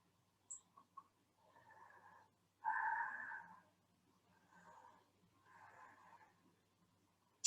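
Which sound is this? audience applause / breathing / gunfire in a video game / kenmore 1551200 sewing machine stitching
breathing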